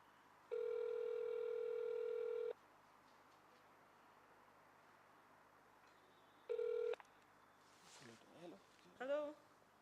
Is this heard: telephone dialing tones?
yes